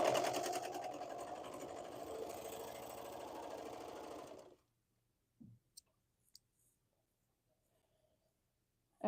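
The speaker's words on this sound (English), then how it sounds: "all I did was sew down where I attached the sleeve to the shoulder, and that now gives us our sleeve." A sewing machine stitches a hoodie sleeve to the shoulder, a fast steady mechanical whir close up for about four and a half seconds, then stops, followed by a few faint clicks and handling sounds.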